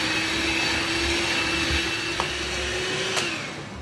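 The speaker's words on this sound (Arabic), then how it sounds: "راح افره اول شيء بهاي الماكينه العجانه اللي عندي" An electric dough kneading machine mixes burek dough in a home kitchen, giving a steady whirring motor hum with a faint tonal whine, close and continuous, with a couple of brief clicks and no talk.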